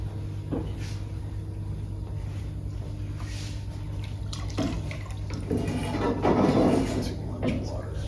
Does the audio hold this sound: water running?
yes